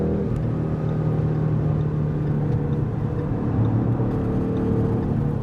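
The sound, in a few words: 2015 Ford Mustang GT V8 accelerating and shifting gears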